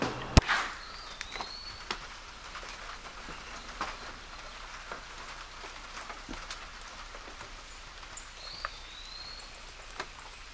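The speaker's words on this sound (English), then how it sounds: "it was absolutely pouring rain, and it is still raining pretty good" Rain falling outdoors in the early morning, a soft steady hiss with scattered sharper drips and a few louder taps, fairly faint and without talk.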